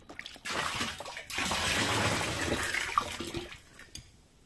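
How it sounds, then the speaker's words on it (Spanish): Potatoes being washed in water in a home kitchen, with continuous splashing, sloshing and running water filling most of the stretch, broken by brief pauses near the start and end. "Una vez que hemos lavado las papas"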